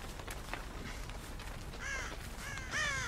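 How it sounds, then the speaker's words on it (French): Crow cawing in the video game Dead by Daylight, two distinct harsh caws a second apart against a low background hum, with no other sounds. "Non, c'était un corbeau."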